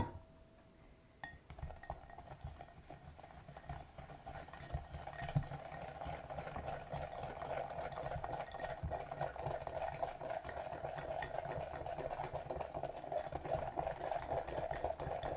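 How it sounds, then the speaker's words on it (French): Sugar being stirred into cake batter for a birthday chocolate cake, a steady run of soft scraping and clinking from a utensil against the bowl that builds after a quiet start and continues without talk. "je vais prendre mon sucre et mélanger le tout"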